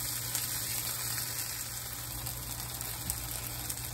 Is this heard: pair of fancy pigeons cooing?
no